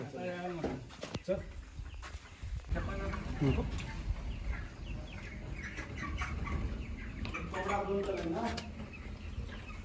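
Village chickens cluck and a rooster calls in short, repeated bursts at moderate distance, mixed with people talking nearby and a low, steady background rumble.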